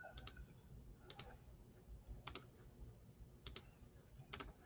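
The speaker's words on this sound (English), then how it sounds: "Sorry if you guys just hear me clicking my mouse all over the place" A computer mouse gives five sharp, isolated clicks spaced about a second apart, close and crisp over a faint low background hum.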